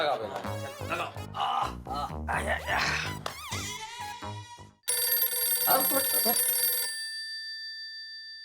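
A mobile phone ringtone rings steadily from inside a pocket after a stretch of lively overlapping voices and laughter, then cuts off.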